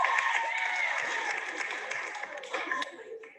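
Audience at a stand-up comedy show applauding a comedian as he is introduced, a dense, steady clapping wash with a few cheers, fading slightly toward the end.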